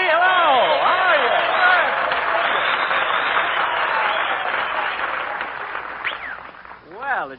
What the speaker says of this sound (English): did you hear that ovation, Mary? Applause, cheers, whistles